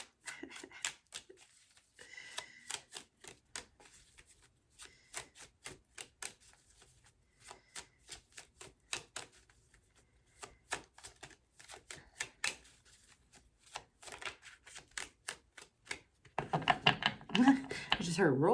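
Tarot cards are shuffled during a late-night reading in rapid bursts of crisp papery clicks and riffles, with a denser flurry at the end. Talking runs underneath.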